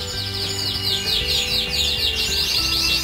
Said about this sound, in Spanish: Los pajaritos.